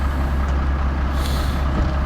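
A working truck rumbles loudly and continuously during groundwork on a property, with a hiss of air brakes partway through.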